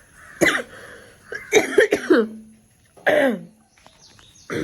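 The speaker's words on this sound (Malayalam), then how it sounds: "എൻ്റെ ഇടയിൽ ഇങ്ങനെ കുറച്ച് സംസാരിക്കുമ്പോൾ ചുമക്കും" Several harsh coughs and throat clearing in short bursts, close to the microphone, separated by brief quiet pauses.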